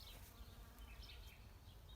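Outdoors among flowers, a bee hums faintly in a soft, steady buzz that rises and falls slightly as it moves about the blossoms.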